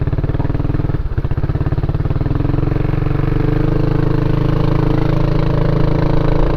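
A Kymco Xciting scooter engine idles unevenly, a steady close, loud low-pitched putter with a slightly wavering, lumpy rhythm that runs alone throughout.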